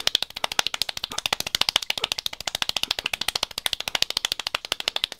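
Extremely fast hand clapping in an attempt at the world's fastest clapping, a rapid, even machine-gun stream of sharp, close claps sustained without pause and heard alone.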